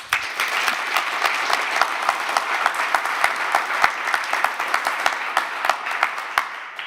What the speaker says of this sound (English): A big round of applause for you for taking time and to join us on the 7th Next Summit.